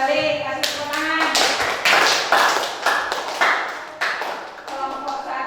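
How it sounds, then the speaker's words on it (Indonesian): Classroom applause for a student group after a presentation, a burst of many hands clapping in uneven, overlapping claps that rise and fade over several seconds, with voices mixed in. "kasih tepuk tangan"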